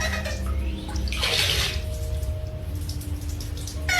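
Water runs steadily from a tap in an old, long-empty house, a continuous hiss with a brief louder gush early on, and no talking.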